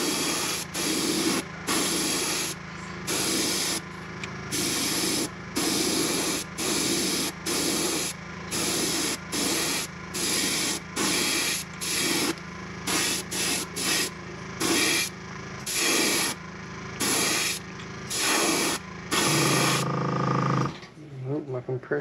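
An airbrush sprays paint onto a fishing bait in a craw pattern, hissing in rapid repeated short bursts with a compressor humming underneath throughout, close and steady, ending in a louder compressor rumble.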